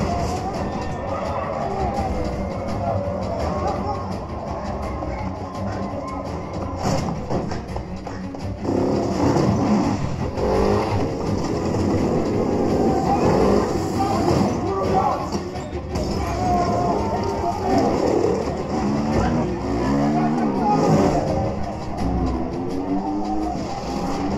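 Fast-paced action sound from a motorcycle chase in a Jason Bourne movie: dense, loud engine and traffic noise with revving, skidding and crowd ambience, constant and close throughout the mix, with some voices mixed in.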